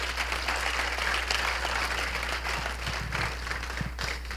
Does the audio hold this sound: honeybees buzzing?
no